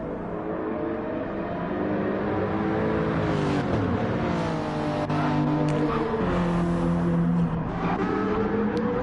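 Gr.3 race car engines in Gran Turismo 7 at a Spanish circuit, loud whining revs climbing and dropping through gear changes, with layered cars close together.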